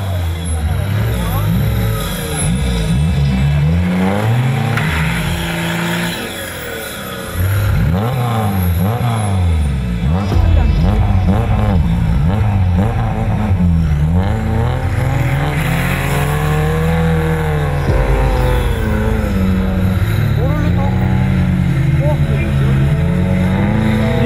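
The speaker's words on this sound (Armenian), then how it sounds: "Լադա Նիվա տուրբինացված շարժիչով" Lada Niva with a turbocharged engine racing on ice, revving hard with rising and falling engine pitch as it accelerates and shifts, loud and continuous, with a commentator speaking over it.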